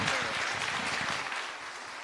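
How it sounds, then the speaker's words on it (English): Audience applause for award finalists and winners at the Dyslexia Awards 2022, a soft, continuous wash of clapping that fades slightly toward the end. "can I have a round of applause again for our amazing finalists and our winners?"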